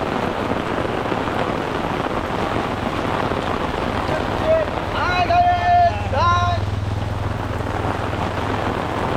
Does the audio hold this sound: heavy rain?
yes